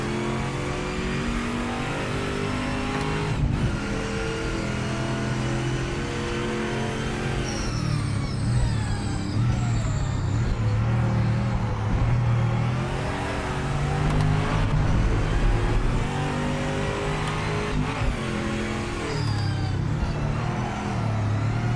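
A GT race car in the Project Motor Racing video game, loud and close, its engine revving hard through rising and falling gear changes with a continuous roar and brief shifts, with no voices over it.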